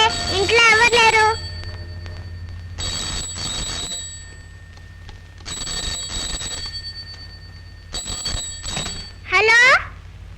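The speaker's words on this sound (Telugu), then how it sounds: "ఫోన్ మోతుంది, ఇంట్లో ఎవరు లేరు." A telephone rings in an empty house, repeated bursts of a shrill electronic bell separated by short gaps, loud and close, with a brief voice exclamation at the start and end.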